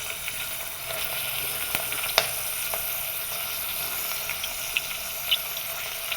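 Tomatoes frying with onions in oil in a pan give a steady broad hiss and sizzle that holds throughout, broken by a few faint clicks and pops.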